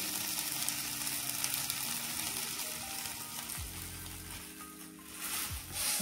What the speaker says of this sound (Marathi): आता मी काय करते त्याला पलटून घेते आणि दोन्ही साईडनं मस्त भाजून घेते